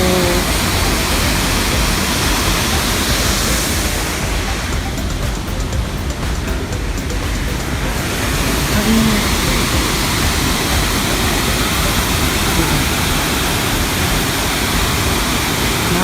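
Tangadan Falls in San Gabriel, La Union pours in a loud, continuous broadband rush of water that stays steady throughout, close and dense.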